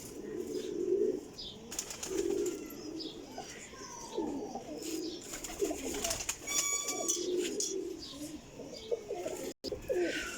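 Kasuri pigeons cooing softly nearby with occasional bursts of wing flapping and light chirps, continuous bird activity close to the microphone.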